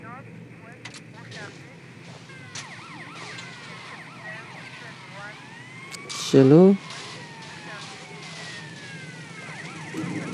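Wailing ambulance siren from the GTA Vice City game sweeps up and down over steady engine hum and traffic noise, while someone talks briefly over it and a short loud vocal burst stands out near the middle.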